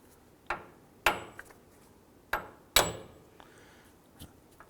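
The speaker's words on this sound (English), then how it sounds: "Now I'm going to go ahead and lightly tap the ball joint stud up top here." A hammer lightly taps the upper ball joint stud on a 2004-2009 Dodge Durango during tie rod work, giving four or five sharp, close metallic knocks at uneven intervals with quiet between them and no talk.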